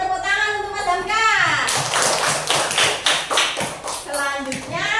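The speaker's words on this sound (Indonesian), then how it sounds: "Kasih tepuk tangan untuk Mas Hamka" A primary-school maths class claps for a pupil, a dense burst of small hands that starts at about two seconds and carries through with a few children's voices and the teacher talking over it.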